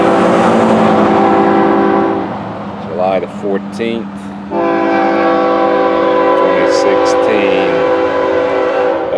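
An FEC freight train rumbles past close by at dawn, its horn blaring long and loud with a brief break of short blasts in the middle, while someone speaks over the steady rail noise.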